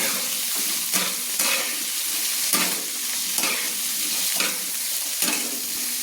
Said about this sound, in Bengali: আমি হাফ মিনিট মতো আলুগুলো একটু খুন্তি দিয়ে নেড়ে আলুগুলো লাল লাল করে ভেজে নিচ্ছি